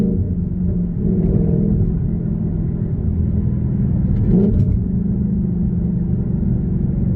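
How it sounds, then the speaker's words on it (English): Gen 2 Coyote V8 in a Mustang GT with manual clutch, downshifting with rev matching: a steady, loud low engine rumble with a brief rev blip near the middle. "It's so easy to downshift rev match with this clutch."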